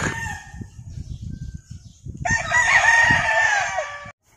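A four-year-old Gilmore Hatch gamecock with a black tongue crows once, loud and close, a long drawn-out call following a stretch of scratchy barnyard noise.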